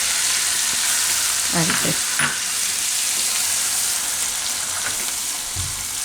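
Cumin seeds, chillies and garlic sizzle steadily in hot oil, a constant loud frying hiss with a few stirring scrapes, and a voice speaks briefly over it.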